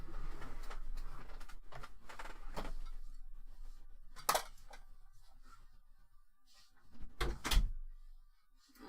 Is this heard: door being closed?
yes